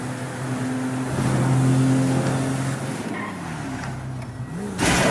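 A car driven in the video game GTA 5 roars along with a steady engine drone that rises and falls in pitch, loud and continuous, ending in a sudden burst of noise.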